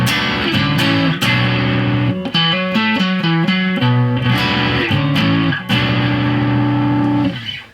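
An electric guitar plays rhythm chords through a Boss DS-1 distortion pedal fitted with clipping diode mods, the gain backed off to a rhythm setting; loud, sustained distorted chords change in a steady pattern.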